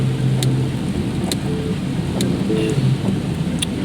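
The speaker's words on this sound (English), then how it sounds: "But now here in Samarahan is heavy downpour, so I need to drive carefully while recording this video." Heavy rain pours down on a car being driven in Samarahan, producing a dense, steady low roar of downpour and road noise throughout, with occasional sharp ticks from drops or wipers, loud and continuous.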